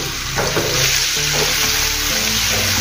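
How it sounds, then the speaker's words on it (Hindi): Ridge gourd (turai) frying in a pan, with a steady loud sizzle and occasional stirring scrapes, no voices over it. "इसको भी हम आधा नरम होने तक तल लेंगे तुरई को अपने"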